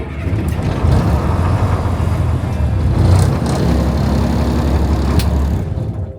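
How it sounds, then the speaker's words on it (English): A 4x4 van's engine, switched on with a big red button, runs with a steady, close, loud low rumble throughout, with no voices. "So to start the car, you've got green switch, lights turn on, big red button"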